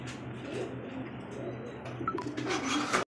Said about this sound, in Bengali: এখানে আরো এক জোড়া শাটিন কবুতর